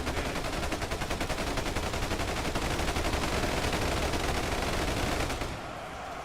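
Dense, rapid gunfire from a large battle in the game UEBS 2 rattles continuously and loudly for several seconds before cutting off abruptly near the end.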